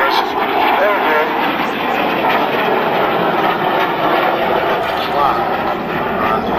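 A large model airplane flies an aerobatic display at a Large Model Association show at Rufforth in 2009, its engine a steady, loud drone that holds throughout with voices faintly underneath.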